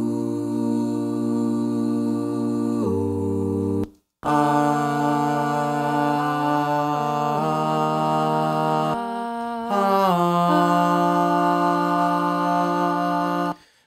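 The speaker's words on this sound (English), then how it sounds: "several times there's two voices singing the same note, just one an octave up, so it's not a dense part at all" Layered background vocals from a song, a few sustained harmony voices holding steady notes, some doubled an octave apart, in phrases broken by brief silences.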